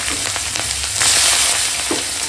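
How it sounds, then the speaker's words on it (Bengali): Whole cumin, a bay leaf, slit green chilli and onion frying in fish-frying oil in a pan, a steady broadband sizzle with a few stirring scrapes and a louder crackling surge midway, no voices. "এখন দিয়ে দিচ্ছি গোটা জিরে ফোড়নে আর দিয়ে দেবো এখন চেরা কাঁচা লঙ্কা আর পেঁয়াজ"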